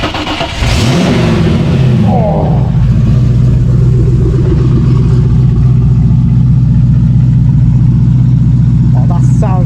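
A Nissan Skyline GT-R R33 under restoration fires up with a sharp rev, then settles into a loud, deep, steady rumbling idle close by.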